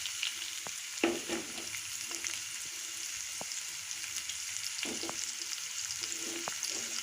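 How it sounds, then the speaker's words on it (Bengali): Onion and garlic paste frying in hot oil gives a steady, fairly quiet crackling sizzle throughout, with a few soft stirring scrapes and clinks mixed in. "তেলটা গরম হয়ে গেলে আমি পেঁয়াজ রসুন বাটাগুলো দিয়ে দিব"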